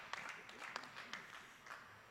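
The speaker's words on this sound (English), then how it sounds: "Great round of applause from the crowd" A bowling tournament crowd claps for a few seconds at a finals event, quiet scattered hand claps heard at a distance, with a faint voice in the background.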